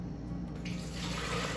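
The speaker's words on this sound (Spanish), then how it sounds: "voy a poner una taza y media de agua" Water pours into a coffee maker, a soft trickle that turns into a fuller splashing stream after a moment, quiet and close, with no talking.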